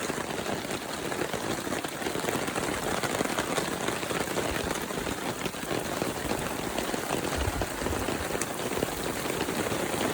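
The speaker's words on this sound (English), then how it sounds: "It is just heavy rain, and it will not stop." Heavy rain pounds down without pause on a campsite at Salsman provincial park, a dense, even hiss of drops striking surfaces with no voices over it.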